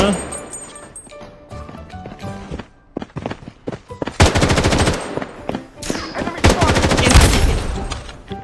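Rapid automatic gunfire in the video game Blood Strike bursts out loud and close in two long sustained volleys, preceded by scattered single shots and game sounds, with voices talking over the action.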